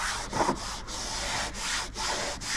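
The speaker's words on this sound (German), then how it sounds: "Jetzt machen wir das hier an der Stoßstange auch mal mit dem Schleifvlies." Abrasive fleece pad rubbed over the plastic bumper trim of an Opel Omega, a steady scratchy scrubbing in several back-and-forth strokes with brief pauses, close and moderately quiet, no talking.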